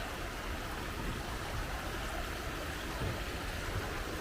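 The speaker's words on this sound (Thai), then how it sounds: "น้ำที่ไหลมาจากน้ำตกใสสะอาด" Clear water from the Kuang Si waterfall in Laos runs down a forest stream, making a constant soft rushing wash with no breaks or voices.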